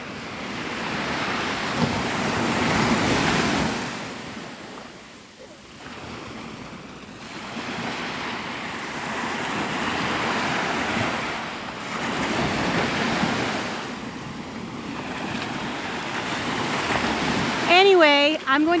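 Ocean waves at Navarre Beach, Florida, roll and break in repeated surges of rushing surf, mixed with wind buffeting the microphone, and a voice speaks briefly at the very end.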